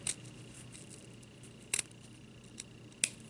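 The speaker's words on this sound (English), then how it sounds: "to cut this felt off. And just keep snipping away." A few sharp, isolated scissor snips cutting felt, spaced well apart, crisp and close against a quiet background.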